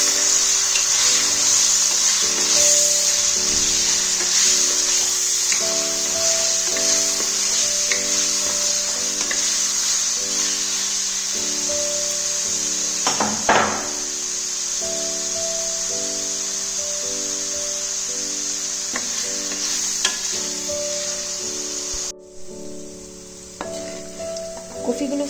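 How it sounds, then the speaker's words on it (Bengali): Blanched cauliflower sautés in hot oil with a constant bright sizzle, while a steady low hum runs beneath and occasional stirring scrapes sound close by. "ফুলকপিগুলো ব্লাঞ্চ করা ছিল, আমি এবার এটাকে সতে করে নেব তেলে।"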